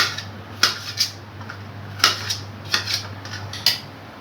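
A knife taps and clicks on a board while a mango is cut into medium pieces for Bengali mango dal, a dozen or so sharp, close cuts at an uneven rhythm over a low steady hum.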